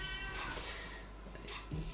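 A pet cat meows faintly in the background of a quiet indoor room, with a couple of short cries over a steady low hum.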